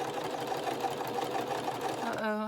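A sewing machine stitching a zigzag stitch on a journal cover made from a vintage sewing pattern, a steady close mechanical whir running continuously before a voice starts at the end.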